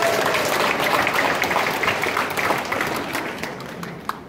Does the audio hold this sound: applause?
yes